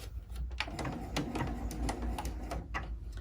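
A sewing machine stitches steadily around fabric for a small sunglass pouch, its rapid mechanical ticking continuous and close throughout, with no voices.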